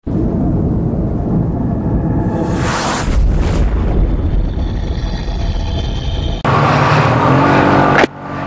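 A 2019 Yamaha T-MAX 560 maxi-scooter laps the Lihpao race track. Its engine and wind roar stay loud and continuous, swelling into a brighter rushing burst near the end before easing off.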